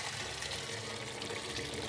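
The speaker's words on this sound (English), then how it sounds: "So let's strain this." Fish stock is poured through a small strainer, a brief, steady liquid rush and splash with no break, close and moderately quiet.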